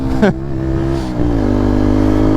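Small Zontes 125 motorcycle engine revving, a sharp throttle blip that drops off, then climbs and holds a steady loud drone, close up.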